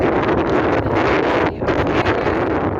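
Strong wind buffets the microphone on an open moorland trail near the Cheviots, a constant loud rushing roar with only a brief dip.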